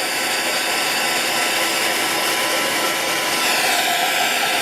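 A craft heat dryer blows a loud, steady, broadband whoosh with a faint whine while drying mixed media on an MDF butterfly, continuous throughout with no talking.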